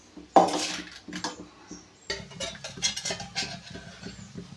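A metal kadai pan is set down on a gas stove in a home kitchen with one sharp clank, followed by softer scattered metallic knocks and clinks of cookware.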